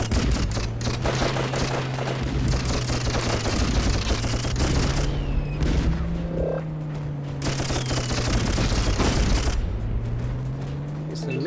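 Rapid machine gun fire from a toy plane in the Dreamcast game Toy Commander, loud bursts over a steady droning engine, with a voice talking over it.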